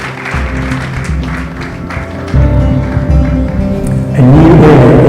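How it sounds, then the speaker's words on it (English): Audience applause at a TradeMark Africa launch event in Ghana, a dense wash of clapping that builds and grows louder toward the end. "A round of applause."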